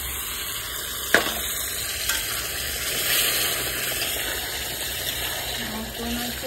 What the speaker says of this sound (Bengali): গরম জল দিচ্ছি, ঠান্ডা জল দিলে হবে না, গরম জল দিই।